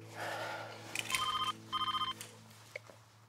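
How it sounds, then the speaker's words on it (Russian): A telephone rings in a quiet indoor scene, two electronic ringing bursts in quick pulsed trills, fairly faint, over a low steady hum, ending with a couple of small clicks. "Вам звонят. Ответьте"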